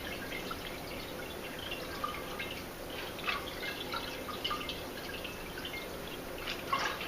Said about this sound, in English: The liquid is draining through the colander into the pot beneath.